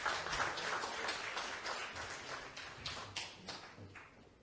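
An audience at a party convention's joint rally in Gyeongbuk applauds to welcome a speaker. The clapping is faint and distant, scattered into uneven bursts that slowly taper off.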